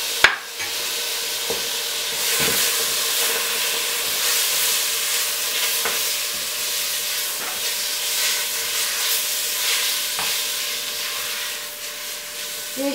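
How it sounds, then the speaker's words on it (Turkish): Roasted peppers being stirred into toasted flour in a pan, a steady sizzling hiss with repeated scraping and stirring strokes, continuous and close, with no talking. "Şimdi arkadaşlar biberlerimizi döküyoruz unumuzun üzerine."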